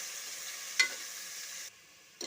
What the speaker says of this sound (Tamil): வெங்காயம் நல்லா ப்ரௌன் கலராக வர்ற வரைக்கும் நம்ம வதக்கிட்டே இருக்கலாம்